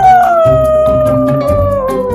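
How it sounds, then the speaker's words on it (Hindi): A fox in a Panchatantra animated tale howls in chorus with a pack of jackals, a loud sustained wavering howl gliding slowly downward over steady layered lower voices, with no talk. "ये देख आदतवश वो लोमड़ भी लोमड़ियों के सुर में सुर मिलाकर चिल्लाने लगा"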